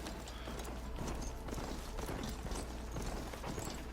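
Steady horse hoof clip-clops in a quick, regular rhythm over a constant low hum in a video game, with no talking.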